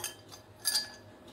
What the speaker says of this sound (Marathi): ग्लास घेतलाय, 2 आईस क्यूब